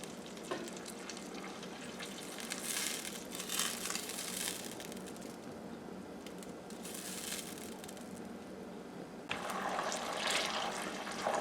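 Butter heats without a lid in a tall pot to make ghee. It fries with a soft, crackling sizzle of bubbling moisture that swells and fades in waves, close and fairly quiet, with no talk.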